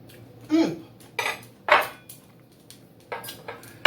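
Fork and plate clinking while eating a meal of green beans: about six separate bright metallic clinks and scrapes spaced unevenly, close and fairly loud, with quiet room background between them.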